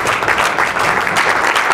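Loud, dense applause from a crowd, steady clapping filling the whole short stretch.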